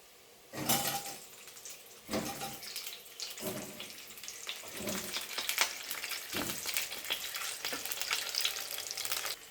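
Eggs frying in oil in a pan for a home-cooked egg roast: a steady, moderate sizzle runs throughout, with several sharp scraping and clattering bursts as the eggs are stirred and moved.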